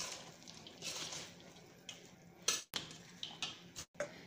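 Boondi being stirred with sugar syrup for bakery-style laddu, producing soft wet clinking and scraping of a spoon against a vessel, with a few sharper knocks toward the end, close up and fairly quiet with no talking.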